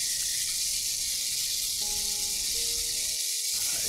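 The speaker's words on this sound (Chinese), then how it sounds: "我哋可以慢慢火煎，煎到有色就得噶啦。" Beef brisket fries slowly in a wok with Korean chili paste, giving a steady, close hiss of sizzling with a couple of faint tonal clinks near the end.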